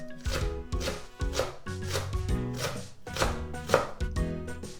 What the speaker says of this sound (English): I'm going to slice it thin like this